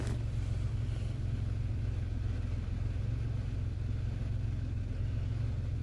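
A 1998 Oldsmobile Eighty Eight engine idles steadily with a low, even rumble and a constant hum, heard up close for the whole stretch with no talking.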